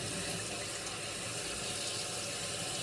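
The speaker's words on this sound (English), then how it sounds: "Give the equipment a good rinse." Tap water running steadily into a sink while coffee brewing equipment is rinsed, a continuous close hiss and splash with no pauses.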